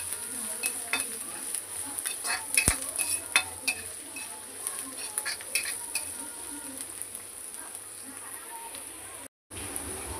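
Chopped green chillies fry in a pan for cabbage manchurian, giving a steady crackling sizzle with occasional sharper pops and stirring clicks throughout.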